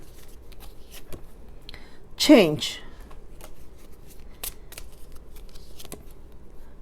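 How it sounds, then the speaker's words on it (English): Tarot cards being shuffled and pulled, a brief riffling flutter of cards close by amid a few soft taps and clicks, with a short spoken word in an otherwise quiet room. "Let me see if I can pull a few cards"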